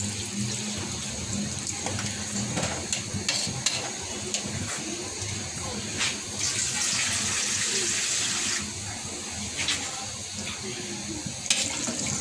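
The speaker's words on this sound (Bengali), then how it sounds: "সিদ্ধ হওয়ার জন্য পর্যাপ্ত পানি দিয়ে দিলাম" Water pours steadily into a cooking pot of beef for boiling, a close, continuous rushing splash that briefly grows fuller and brighter near the middle, with no voices.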